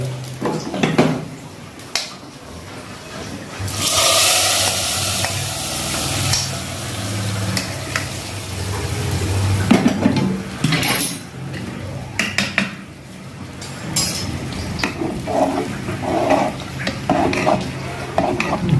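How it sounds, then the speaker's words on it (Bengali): Tempering spices fry in a pot for khichuri while a spoon stirs and scrapes, with clattering metal knocks, a burst of louder sizzling partway through and irregular clinks, close up with no talk. "ফোড়ন কমপ্লিট, হালকা হালকা করে ভাজা আছে।"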